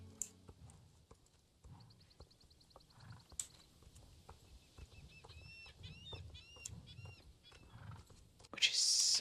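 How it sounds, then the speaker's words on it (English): Horse sounds in Star Stable Online, soft clip-clop hoofbeats with a faint whinny and bird chirps in the background, quiet and ambient, ending in a louder burst. "So we got the new horse noises"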